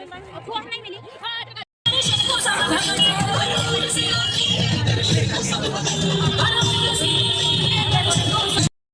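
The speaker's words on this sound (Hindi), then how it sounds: "देखो दोस्तों, अब देखो कितनी भीड़ चली आ रही है" Dense crowd hubbub at a busy village fair with tractors around, many overlapping voices forming a loud, continuous babble after a brief quieter moment with a single nearby voice.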